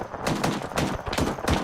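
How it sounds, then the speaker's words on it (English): Rapid bursts of gunfire in the military video game ARMA 3, a dense sustained volley of shots and sharp cracks that continues without letup over a noisy battlefield backdrop. "We're laying down the fire."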